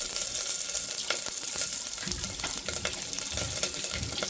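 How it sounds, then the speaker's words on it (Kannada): Mustard seeds splutter and crackle in hot oil in a home kitchen pan, a loud continuous sizzle with sharp popping bursts scattered throughout and no voices. "ಸಾಸಿವೆ ಸಿಡಿತಾ ಇದೆ"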